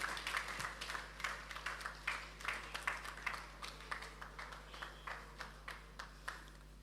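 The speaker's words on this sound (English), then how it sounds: "A round of applause, please." Audience applause at a panel introduction, with fairly faint, scattered clapping from a modest crowd that goes on for several seconds over a low background hum.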